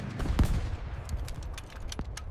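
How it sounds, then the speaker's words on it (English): Fifty-caliber machine gun ammunition cooking off in a fire, irregular bursts of sharp cracks and pops crackling over a rumbling background, some close and loud, others fainter. "The 50 caliber machine gun ammunition is igniting in the flames, and the projectiles are erupting into the air in all directions."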